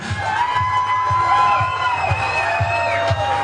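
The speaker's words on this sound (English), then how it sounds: "Let's give them a round of applause." A crowd cheers and whoops loudly, with steady rhythmic clapping and shouts rising over a busy, echoing hall at a bass fishing tournament weigh-in.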